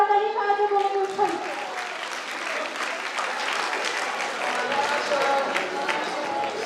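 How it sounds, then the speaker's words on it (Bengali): An audience at an annual meet breaks into sustained applause, a dense and steady wash of many hands clapping. Voices carry over it at the start. "সবাই মিলে জোরে করতালি সাহায্যে বলে উৎসাহ"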